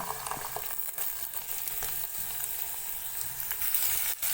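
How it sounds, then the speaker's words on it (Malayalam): Chopped snake gourd going into a pan of sautéing onions for a thoran, a close, steady sizzle broken by a few sharp clicks and scrapes, with no voices. "സവാള വരുന്നു വന്നപ്പോൾ നമ്മൾ അതിലേക്ക് അരിഞ്ഞ് വെച്ചിരിക്കുന്ന പടവലൊക്കെ ചേർത്ത് കൊടുക്കുക"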